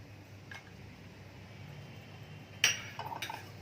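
A metal pan lands with a bright clink on a kitchen stove, then a few lighter scrapes and taps as it is handled, all set against a quiet room hum.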